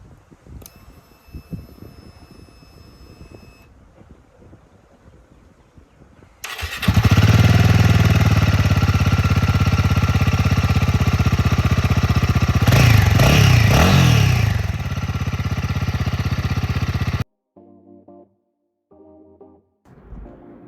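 A Royal Enfield Himalayan 450 adventure motorcycle engine, 2026 model, starts and settles into a loud, steady idle up close, with a brief rise in revs midway before it cuts off, followed by faint clicks.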